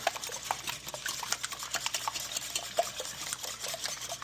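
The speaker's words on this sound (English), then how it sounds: "I have my own little technique for whisking," Eggs whisked by hand with a back-and-forth stroke for a roasted vegetable frittata: a steady run of quick, light clicking taps against the bowl, close and continuous, with no voices.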